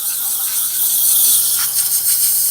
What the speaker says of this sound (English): Let your steamer do the work.